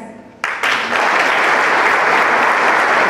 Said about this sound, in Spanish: Estamos fuerte, un fuerte aplauso nuevamente.